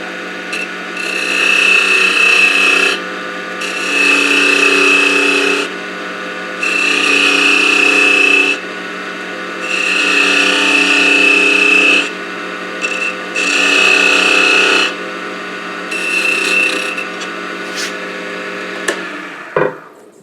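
A parting tool cuts grooves into a wooden tamper spinning on a lathe, giving five bursts of steady scraping and whirring several seconds each, with a running hum in the pauses between them.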